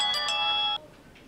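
A phone ringtone chimes loud and close, a bright multi-tone ring with two quick accented pulses, then cuts off abruptly, leaving faint room noise.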